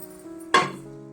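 A metal lid set down on a cooking pot of sprouted moong curry, one sharp close clank that rings briefly and fades.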